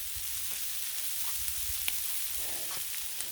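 Corn on the cob frying on a Blackstone griddle with bacon produces a continuous close sizzle with small scattered pops and crackles. No one speaks.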